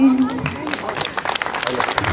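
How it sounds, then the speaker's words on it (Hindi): Audience applause at a Hindi poetry stage event, dense clapping from a crowd spread across the room at steady loudness, with a brief voice at the start. "आप लोग अच्छी तालियां बजा रहे हैं"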